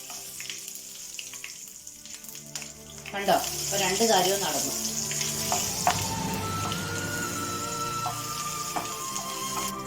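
Mustard seeds crackle and pop in hot oil with green chillies added, a steady close sizzle with sharp spluttering bursts, while someone speaks over the pan in Malayalam.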